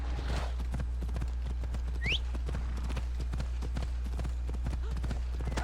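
Horse galloping in Assassin's Creed Odyssey, a rapid, steady run of hoofbeats close up, with a short whinny partway through and a person talking over it.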